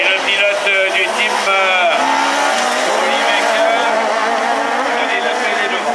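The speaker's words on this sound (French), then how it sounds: "Oh, le tête à queue." A race car spins out at a French competition in Châteauroux, with tires squealing in long rising and falling screeches over a loud, continuous engine roar, and an excited commentator talking over it throughout.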